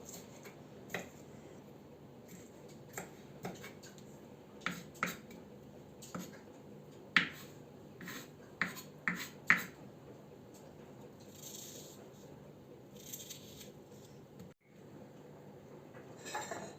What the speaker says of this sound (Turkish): Bu şekilde küçük küçük soğanlarımızı doğruyorum.